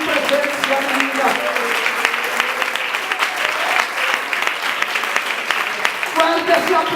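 Church congregation applauding loudly and steadily during worship, a dense crackle of clapping throughout with voices and some singing or shouting mixed in.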